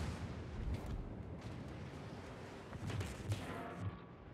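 Heavy naval gun volleys from a warship in World of Warships, with a few deep, rumbling booms rolling out over a continuous low roar of battle, fairly muffled and distant.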